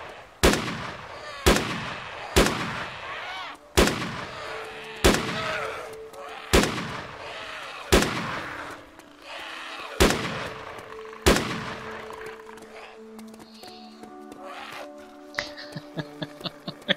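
Single gunshots in the DayZ video game, about ten loud, sharp cracks spaced roughly a second apart, each with a short echoing tail, then a quieter stretch with faint tones and small clicks.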